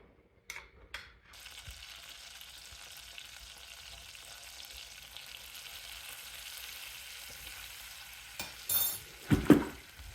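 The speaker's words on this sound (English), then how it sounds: "I'm just going to mix that flour around with the butter until the flour is cooked" Butter and flour roux cooking in a pan, a soft steady sizzle running under occasional utensil stirring scrapes, with a few louder knocks near the end.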